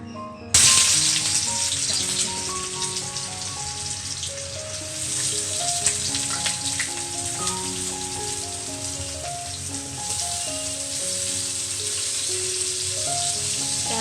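Finely chopped onion sizzling in hot oil in a kadhai, a loud steady frying crackle that starts abruptly and holds throughout, with faint higher clicks and no talking.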